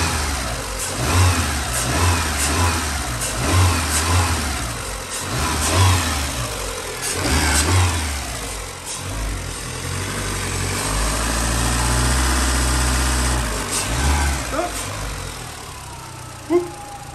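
A reassembled car engine with a gearbox problem, a close, loud sequence of short throttle blips and revs that then settles into a steady rumbling idle.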